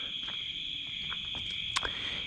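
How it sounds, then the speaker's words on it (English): Thermometer crickets on a cool night, a steady high chirping chorus from many insects all around, constant and fairly faint, with one sharper chirp near the end and no talk. "I got some thermometer crickets going off everywhere."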